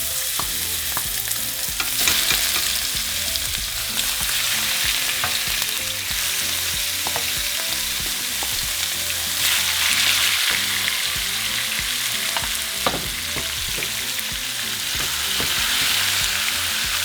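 Meat sizzles steadily in olive oil in a frying pan over medium-high heat, a continuous bright crackle and hiss with occasional louder pops and stirring scrapes, and no talking.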